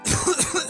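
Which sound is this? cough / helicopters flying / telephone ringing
cough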